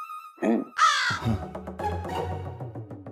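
A voice imitates a crow's caw, a few harsh nasal calls up close, followed by a rough, buzzy drawn-out vocal sound.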